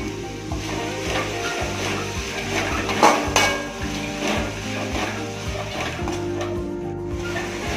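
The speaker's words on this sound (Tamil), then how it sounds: "இதெல்லாம் வதங்கும் போது ஒரு அஞ்சு நிமிஷம் நல்லா ரவ வந்து மீடியமான ஃப்ளேம்ல வச்சு நல்லா இந்த மாதிரி வதக்கி விட்டுடலாம்" Coriander leaves and curry leaves sautéing in a pan over a medium flame for a nodding-green thuvaiyal, with a steady sizzle, stirring scrapes and clinks of a utensil on the pan under faint background music.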